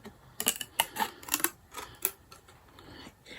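Scissors snip through an old plastic BRP card, cutting it in two with a close series of sharp crisp clicks and crunches, irregular and quick, then tapering off.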